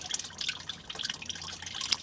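Transmission fluid drains from a Mercedes 9G-Tronic nine-speed torque converter into a pan as a faint, close run of quick liquid drips and patters, with no talking.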